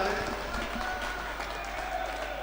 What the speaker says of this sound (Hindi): एक बार जोरदार तालियां अपने लिए आप सब बजा दें